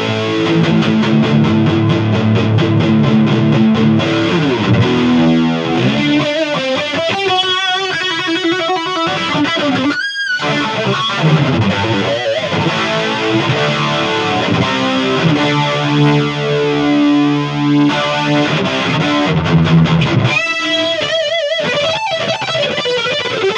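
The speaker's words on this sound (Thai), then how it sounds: "ใช้เสียงแตกควบคู่กับเอฟเฟคนี้ดูนะครับ" An electric guitar played with heavy distortion through a Horus chorus pedal rings out loud and continuous, with dense sustained chords and shimmering, wavering tone throughout and a brief break near the middle.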